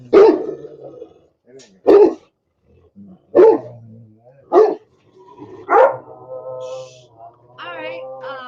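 Dogs bark loudly and close by in a series of sharp, separate barks, with brief pauses and a few quieter yips and growls between them, while a person talks faintly in the background.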